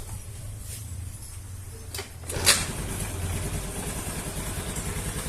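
A Honda Vario carbureted scooter engine runs steadily nearby, a continuous low idle hum with a brief clatter partway through, then a slightly rougher running tone that holds to the end.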